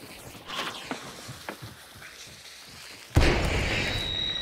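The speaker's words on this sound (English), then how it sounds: "I'm gonna send this frag in there as well." Frag grenade detonating in Hunt: Showdown, a sudden loud, close blast late in the sequence that leaves a sustained roar, after quieter scattered thuds and pops from the game.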